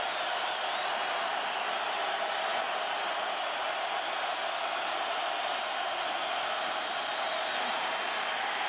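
A packed stadium crowd roars at a 2004 college football game between West Virginia and Syracuse on a fourth-and-short play, a dense, loud, unbroken wall of cheering that holds steady throughout.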